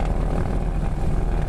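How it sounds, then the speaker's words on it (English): A Beech 18 twin propeller aircraft on its takeoff roll, loud steady droning radial engine and propeller roar filling a short stretch with no speech. "Mike, runway 27, clear for takeoff."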